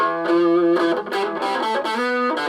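Electric guitar through a distortion pedal switched to full distortion plays a short run of sustained, gritty notes and chords, loud and close with no talking.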